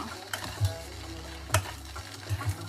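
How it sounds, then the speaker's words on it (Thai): Khanom jeen rice noodles stir-fried in a pan with soy sauce, dark soy and oyster sauce, quiet sizzling under a few sharp scrapes and clacks of a spatula against the pan. "ซื้อขนมจีนมาแล้วก็ผัดใส่ซีอิ๊วใส่น้ำมันหอยใส่ซีอิ๊วดำด้วยนะ"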